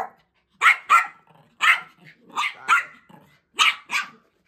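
A dog barks repeatedly in short, loud bursts, mostly in close pairs with brief gaps, sounding near and hoarse after barking for a long time.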